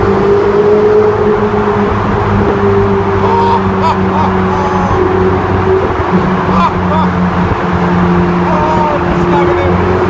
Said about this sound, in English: I'm going to keep it at a nice high gear so you can hear that pitch as we go through